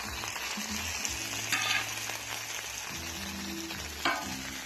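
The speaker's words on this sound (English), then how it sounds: "Now we're going to throw the potatoes in." Potatoes dusted with seasoning salt sizzle and fry on a camping disc outdoors, a steady crackling hiss with occasional sharper pops and stirring scrapes, close and alone without talk.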